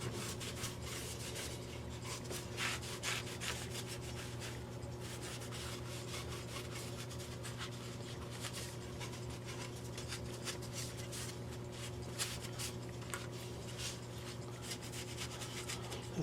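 Steady cloth-on-wood rubbing as wax is worked into a 1974 Seth Thomas country pine clock, quiet, close and continuous, with rhythmic back-and-forth strokes and no talking.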